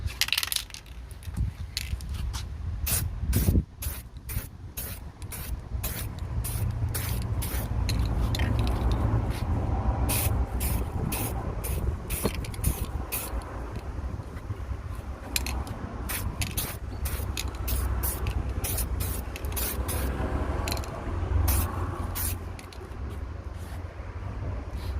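An aerosol spray can coats the peeling trim of a BMW e60 5 Series steering wheel in light passes, giving a hissing spray under repeated sharp clicks and rattles from nearby handling.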